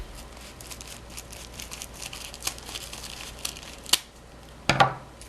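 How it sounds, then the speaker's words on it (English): Scissors snip through pom pom yarn while trimming it evenly, giving a few brief crisp cuts near the end after quiet crinkly handling noise. "And then you want to cut it evenly with the other side."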